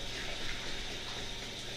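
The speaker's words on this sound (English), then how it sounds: "you cut the curds, and now you're going to add a little bit of hot water" Hot water streams steadily onto cut mozzarella curds, a soft continuous pouring wash with no pauses and no voices.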